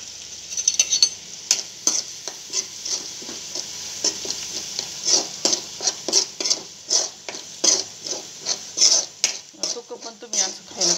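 Garlic-ginger paste frying in hot oil with cumin seeds in a kadhai, sizzling steadily while a spoon scrapes and clinks against the pan in repeated strokes, close up and without talk.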